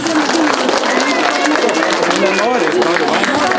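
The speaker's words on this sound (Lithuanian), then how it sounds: "Dar garsesniais aplodismentais." Audience applause at a children's stage performance in a hall, dense steady clapping and crowd noise filling the whole stretch, loud and close, with voices and cheering mixed in.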